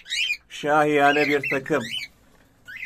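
Cockatiels bred for sale in Istanbul squawk and chirp in sharp, repeated calls close by, while someone speaks over them in a plain voice.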